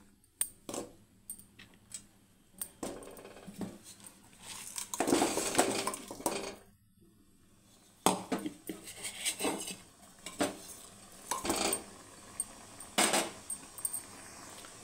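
Jaggery goes into a pan for a homemade sesame-peanut sweet and is stirred with a metal spoon. Spoon and pan clatter and scrape in close, irregular bursts, with no talking.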